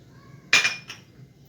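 Whole spices for rogan josh masala dropped into a pan land in one sharp rattling clatter, followed by a smaller clink a moment later, close and short, against a quiet background.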